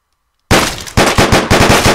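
Automatic gunfire from the video game Deadbolt empties a full magazine in a quick string of about eight loud, close shots after a brief silence.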